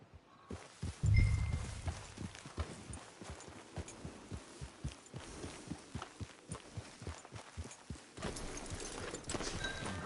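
Horse hooves clip-clopping in the video game Red Dead Online, a steady rhythmic walking gait of hollow thuds that runs the whole time, close and fairly soft, with a brief snort near the start and no talking.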